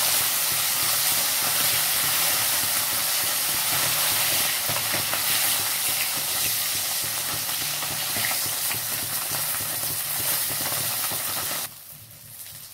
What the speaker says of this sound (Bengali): একটা পিঠ ভাজা হয়ে গেছে, এবার মাছগুলোকে আমি উল্টে দেবো।